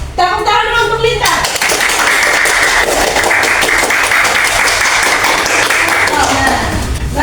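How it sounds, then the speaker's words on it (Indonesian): Classroom clapping for a student, with a teacher's voice briefly at the start before the pupils break into lively, close applause that holds steady for several seconds and then tapers off near the end. "Tepuk tangan dulu untuk Lita"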